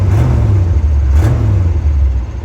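A 1978 Chevrolet Suburban with a broken exhaust idles rough and loud on a cold start, its deep engine rumble swelling into two revs that rise and fall steadily across the whole stretch.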